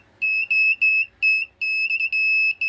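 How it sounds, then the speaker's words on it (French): A Light-O-Rama lighting controller test sounds a siren as a harsh electronic two-tone buzz that pulses on and off in short bursts, loud and close, with no talking. "ça c'est la sirène que je vous ai dit"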